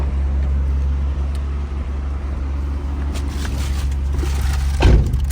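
A rare 1999 Tommy Kaira Skyline R34 GT-R RZ, found sitting in a barn in Japan, is heard from inside while driving: a steady low engine and road rumble that holds evenly throughout, with a slight surge near the end.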